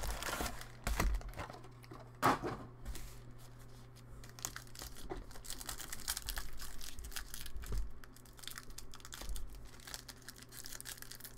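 Plastic wrap is torn and crinkled off wax packs of 2015 Gridiron Kings football trading cards, with irregular close crackling, crumpling and ripping bursts spread over several seconds and no talk.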